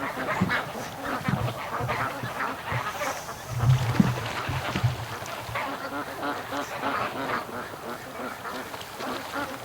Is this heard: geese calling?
yes